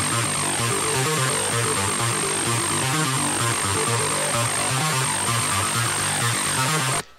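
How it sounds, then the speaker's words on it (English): Acid synth line for an electro house drop, a dense, buzzy, wide-band riff pulsing steadily over a thumping beat, loud throughout before a sudden cut at the end. "For the drop, use some acid sound like this one."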